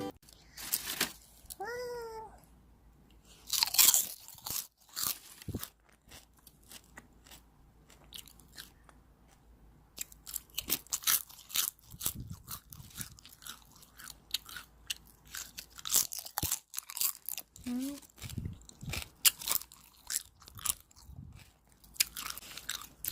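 Close-up bites and crunching while eating Lindt 90% dark chocolate and water kimchi, irregular snaps and chewing bursts with quiet gaps between, and a cat meows briefly a couple of times.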